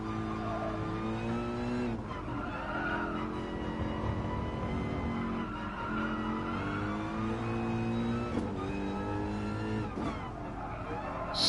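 A race car engine in a racing video game revs high and drops repeatedly as gears shift, loud and continuous, with rising pitch sweeps between each change.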